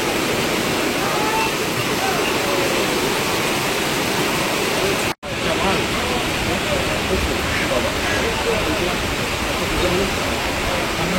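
A heavy downpour at an open-air bird market, loud and unbroken, with a steady hissing roar of rain that cuts out for a split second midway before resuming at full strength.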